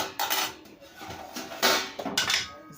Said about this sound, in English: let's open our pot to see how it's cooking